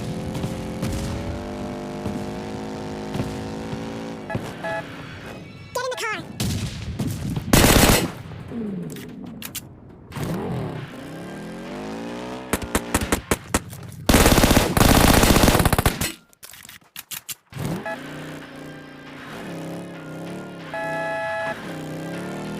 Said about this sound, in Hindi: मुझे सुनाई देता है फायरिंग का साउंड